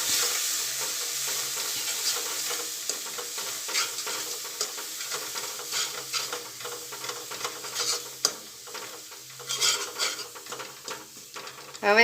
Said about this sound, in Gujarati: આ બધા મસાલાને સરસ આપણે સાંતળી લઈશું